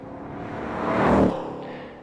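Ford Mustang S550 on its stock exhaust revving once, a smooth rise to a muffled peak and a fall back to idle, fairly faint and heard alone.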